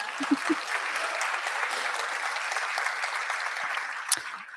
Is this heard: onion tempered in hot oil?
no